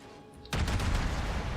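Ship guns on the Tenryu open fire in World of Warships, breaking a quiet hum with a sudden loud close blast that rolls straight into a dense rumbling volley of several shots.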